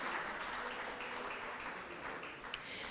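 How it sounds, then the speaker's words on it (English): An audience at an African AI governance panel event applauds steadily as a panelist walks on stage, a dense, even wash of clapping heard from a distance. "A round of applause as he comes up on stage."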